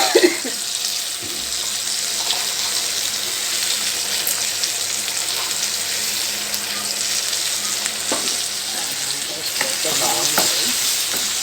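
Ivy gourd (dondakaya) sizzles steadily as it fries in a pan, with occasional scraping stirs and a brief run of water near the end, all close and continuous with no talking.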